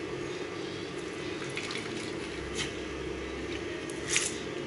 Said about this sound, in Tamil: இதே மாதிரி பீட்ரூட்டில் இருக்கிற வாட்டர் கண்டென்ட்டும் நம்ம இதில் பிழிஞ்சுக்கலாம்.